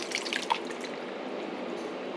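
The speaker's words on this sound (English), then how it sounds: "Next, we'll add the tomatoes. And these are home canned tomatoes with their juice." Home canned tomatoes with their juice pour and slosh into a pot for chili soup, a short wet glugging with a few drips up front, fairly close and fading to a softer trickle.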